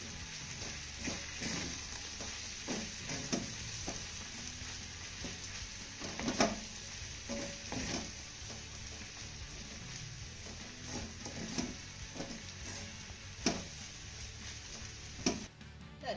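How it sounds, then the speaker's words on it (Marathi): Sabudana khichdi being sautéed in a pan, with steady soft sizzling under repeated scraping and stirring strokes of a spoon against the pan, ongoing throughout. "याला एक ते दोन मिनिटं छान असं परतून घ्यायचं आहे"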